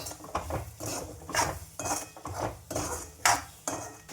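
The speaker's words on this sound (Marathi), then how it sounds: "त्याला छान मिक्स करून घ्यायचं।" A spoon scrapes and clanks against a pot while stirring a dried fish curry mixture of sode (dried prawns), in a series of loud, close, rhythmic strokes with no talking.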